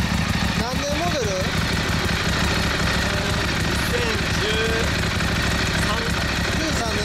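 A stock 2013 Honda CBR600RR sport motorcycle engine idles with a steady, rough, low rumble while people talk nearby over it.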